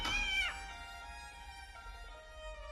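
A white kitten gives a single faint, high meow that fades quickly, followed by soft sustained tones with no other animal sounds.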